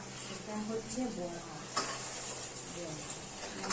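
Bengali palm fruit fritters (taler bora) frying in a home kitchen for Krishna Janmashtami. A steady, close oil sizzle runs throughout, with faint voices in the background.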